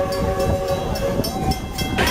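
Walt Disney World Railroad train running on an evening trip, a steady rumbling roll of railcars with clattering wheels and a continuous mechanical hum, close and loud throughout.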